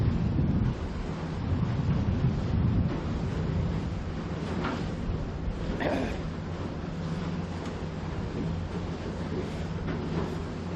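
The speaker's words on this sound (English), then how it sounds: "Got a little bit more wind." Steady wind rushing across an open harbour during a sailing race, a continuous low buffeting roar close to the microphone with no talk.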